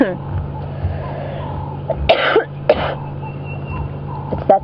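Two short, rough throat-clearing bursts sound close by, separated by a pause, over a low background hum.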